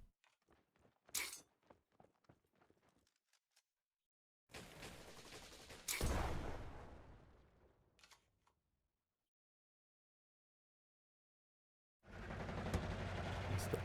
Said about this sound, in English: It's the autocannon.